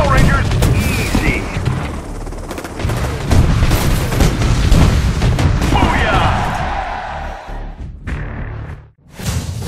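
Gunfire from an A-10 attack jet strafing, with explosions, in the war video game Empires & Allies: a dense, loud, continuous barrage with booming blasts that thins out near the end, under faint voices.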